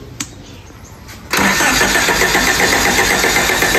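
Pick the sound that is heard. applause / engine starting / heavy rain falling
engine starting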